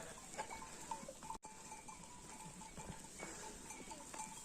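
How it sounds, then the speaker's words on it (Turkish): Flock of sheep and goats spread out at a watering place after coming down from highland pasture, bells clinking faintly and intermittently over a steady outdoor hiss, distant bleats scattered throughout. "Evet koyunlarımız şöyle bir yayladan buraya biraz yayıldılar. Sulanıyorlar."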